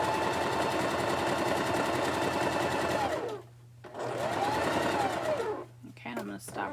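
A sewing machine stitches long quilt borders in fast, steady runs, stopping briefly twice with a short pause between bursts, loud and close with no talk over it.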